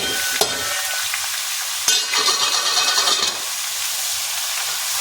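Chopped ridge gourd with onion, salt, turmeric and red chili being stirred in a hot pan, a loud sizzle with bursts of spoon scraping and stirring, no voices.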